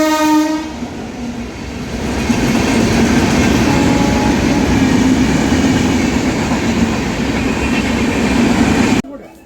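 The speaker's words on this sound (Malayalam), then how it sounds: "ഒരു ട്രെയിൻ വരുന്നുണ്ട്." A train pulling into a railway station, opening with a loud horn blast and then a sustained heavy rumble with clattering wheels on the rails, close by and continuous until it cuts off abruptly.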